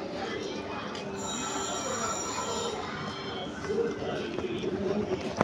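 A passenger train on the Erode to Bangalore line rolls into a station with a sustained metallic rumble and a high wheel squeal, steady and fairly near, while someone talks over it.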